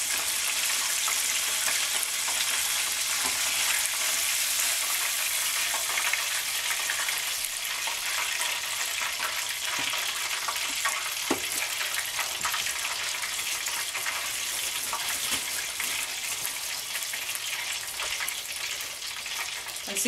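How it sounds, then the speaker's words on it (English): Chicken pieces fry in a pan of hot oil, giving a steady, bright hiss and crackle with scattered pops, close and continuous, with no talking. "Whenever you're frying stuff, oil makes scary noises."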